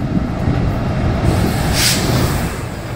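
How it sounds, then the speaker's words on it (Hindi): A North Western Railway train rolls past in Rajasthan, a steady loud rumble of wheels on track with a brief hiss partway through, and no voices. "लेकिन फिर ये ट्रेन की आवाज ये क्यों सुनाई दे रही है?"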